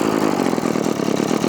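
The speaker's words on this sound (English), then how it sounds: "So to start this trimmer, you just put the choke down like that." A Hitachi CG22EAS string trimmer's small two-stroke engine running after starting, a steady buzzy close-up drone with rapid regular pulsing and no talk.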